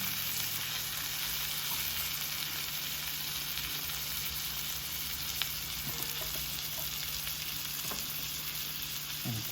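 Salmon pan-searing in butter gives a steady, close sizzle and frying hiss that runs unbroken throughout, with a faint low hum underneath and no talking.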